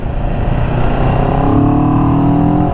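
A motorcycle engine accelerates steadily along a 70 km/h road, its intake growling in a continuous, loud drone whose pitch climbs gradually throughout.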